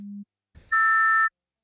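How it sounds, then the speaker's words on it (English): A modular synth patch outputs an array of 16 sine waves, heard as a short low tone blip, a brief noisy burst, then a loud, steady, bright chord of stacked pure tones held for about half a second and cut off. "16 sine waves"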